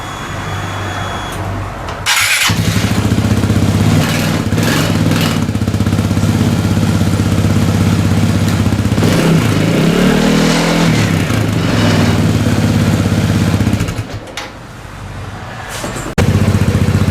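A Vespa GTS scooter engine with stock exhaust and decibel killer fitted idles steadily and loud up close, with a brief blip near the start and a dip in tone toward the end.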